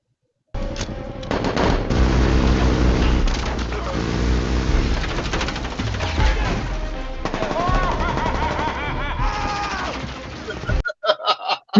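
Joker fires a gold AK in a Suicide Squad Ayer Cut scene, with rapid bursts of automatic gunfire layered over film sound and voices, loud and dense before cutting out near the end.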